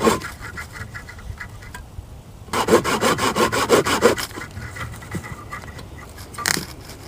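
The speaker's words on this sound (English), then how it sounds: "Okay, here is the dollar store handsaw. Here's a stick." A cheap dollar store handsaw cuts into a stick about two fingers thick, a burst of quick rasping back-and-forth strokes close by, with weaker scraping before and after.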